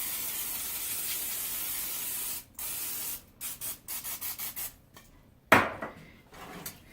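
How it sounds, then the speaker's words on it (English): A can of cooking spray hisses onto a pan in a long burst, then in a series of short, rhythmic spritzes, followed by a sharp clatter and fainter hiss. "take some cooking spray, and you're going to spray liberally on top"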